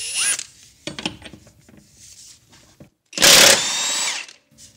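Hercules Ultra Torque cordless impact wrench on a 5 amp hour battery, working on car tire lug nuts. Short mechanical bursts come first, then one loud, dense hammering run of about a second and a half, up close and without speech.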